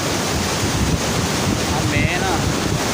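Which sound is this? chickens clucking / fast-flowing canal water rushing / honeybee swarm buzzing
fast-flowing canal water rushing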